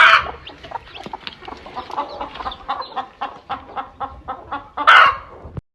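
Desi country hens cluck repeatedly and close by in a village poultry setup, with a steady run of short clucks building to a louder squawking burst near the end, no voices.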